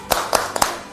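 A primary school class doing a rhythmic clap pattern, three sharp group claps in quick succession within a second, close and distinct, followed by room tone.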